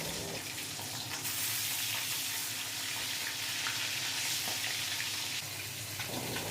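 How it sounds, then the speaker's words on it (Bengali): Salted, turmeric-coated hilsa fish pieces fry in hot oil in a wok, a dense, steady hiss and sizzle that fills the whole stretch without talk. "কড়াইয়ের তেল গরম হলে ইলিশ মাছগুলো পিট করে হালকা করে ভেজে নেবে"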